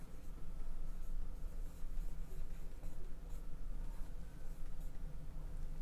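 Marker or chalk scratching steadily across a board while writing a letter, a continuous rough, close scraping with small strokes and pauses, no talk.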